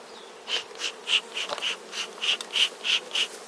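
Honeybees buzzing around a nucleus hive being transferred into a full hive, several individual bees zipping past close by in short, repeated buzzes over a faint background.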